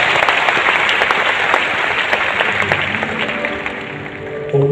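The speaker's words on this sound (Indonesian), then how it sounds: "Kita berikan tepuk tangan buat kita." A church congregation applauds steadily, a loud, dense wash of many hands clapping that carries on without a break throughout.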